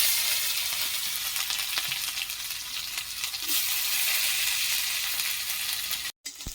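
Onions fry in oil with whole cumin seeds in a loud, continuous sizzle with faint crackles, cut by a brief dropout near the end.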